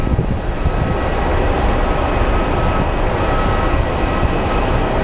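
Steady, loud jet roar from an aging Mitsubishi CRJ700 regional jet landing at Phoenix Sky Harbor airport, a continuous broadband rush that holds evenly throughout with no voices.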